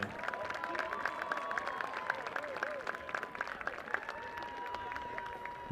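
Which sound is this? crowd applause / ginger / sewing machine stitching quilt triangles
crowd applause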